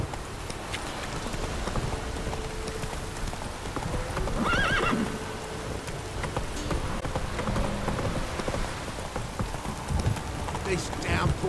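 Steady heavy rain pours throughout in The Witcher 3: Wild Hunt, with horse hooves clip-clopping and a brief whinny rising over the constant downpour.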